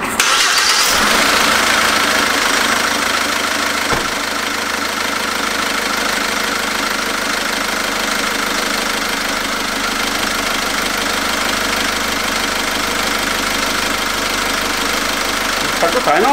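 SsangYong Korando Sports engine running after a Motul 300V oil change, a loud broadband start at the outset settling into a steady, even idle hum throughout with a slight knocking texture.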